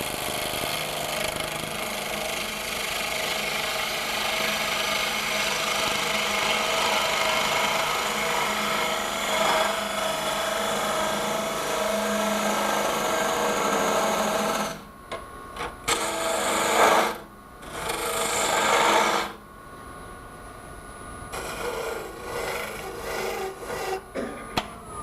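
A natural edge end grain wooden bowl spinning on a lathe while a gouge cuts it, making a continuous rasping, scraping hum that breaks into short bursts and pauses as the tool is lifted and reapplied.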